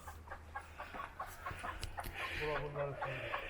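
Chickens cluck in short repeated bursts nearby in a coop, with a voice speaking quietly beneath them.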